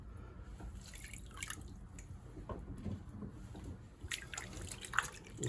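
Water is removed from the bottom of a clay pot, made from locally dug Georgia clay, on a pottery wheel: faint, close wet squishes and drips with soft trickling over a low hum.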